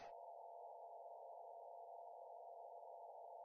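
Spacecraft ranging tones from Chandrayaan 3 in lunar orbit, received by radio: a steady, continuous tone holds unchanged throughout, preceded by a brief burst of broadband noise at the very start, with no other sounds.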